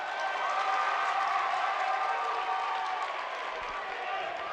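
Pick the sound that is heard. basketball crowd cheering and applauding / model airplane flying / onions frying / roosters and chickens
basketball crowd cheering and applauding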